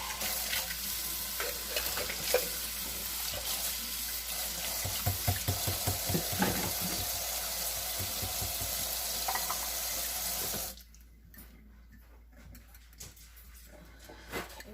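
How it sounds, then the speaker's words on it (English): A cornbread dressing mixture is whisked in a bowl, a steady wet swishing and clicking that runs for about ten seconds, close and moderately loud, then stops abruptly into quiet room sound. "Whisk that around."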